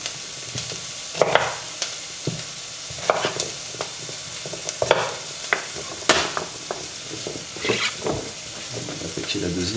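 Finely diced shallots sautéing in a pan, a soft continuous sizzle punctuated by spatula scrapes and stirring clatter at irregular intervals, close up.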